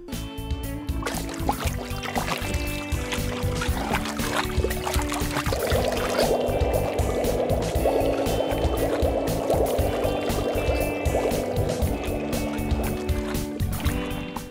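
Water sloshes and splashes continuously nearby at a beach, with gurgling and pouring sounds and small knocks of toys, no voices.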